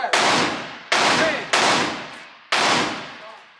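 A Glock 30S pistol fires four loud, close shots at uneven intervals, each a sharp crack followed by a long decaying outdoor echo.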